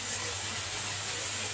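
A spice paste (masala) fries in a pan, giving a steady, even hiss and sizzle throughout with no talking.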